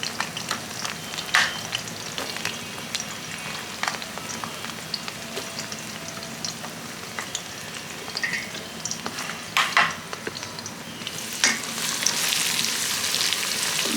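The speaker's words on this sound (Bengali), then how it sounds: "পেঁয়াজগুলোকেও ভেজে নেব।" Onions frying in hot oil for a mango pickle give a steady, close sizzle with scattered crackles and pops, plus occasional stirring scrapes, and no talk.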